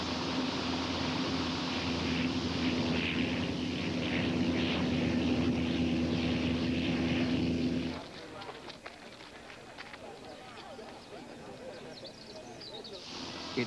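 A Focke-Achgelis Fw 61 twin-rotor helicopter flies with a loud, steady engine drone and rotor hum for about eight seconds, then the sound drops to a much quieter, thinner background roar.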